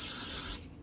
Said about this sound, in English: now we're gonna get our non-stick spray and just spray it on here